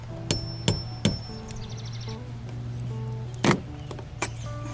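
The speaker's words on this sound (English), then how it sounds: "Oh, maybe I'll use the head of the hammer." A hammer tapping on a rivet in the rub rail of a Com Pac 16 sailboat under restoration, a few sharp metallic knocks spaced irregularly, with ringing tones and a steady background hum between strikes.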